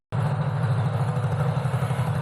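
A 2021 Lifan SS3 175cc motorcycle engine runs steadily during a ride, a continuous low mechanical drone starting abruptly and holding even, close and moderately loud with no talking.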